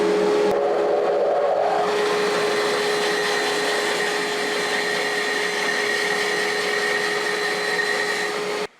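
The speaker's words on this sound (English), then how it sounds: "Let's go over to the bandsaw. Cut this out." A bandsaw cuts through a wooden board in a woodshop, a loud, steady whining hum with a sharp rising squeal as the blade bites in, running continuously before cutting off abruptly at the end.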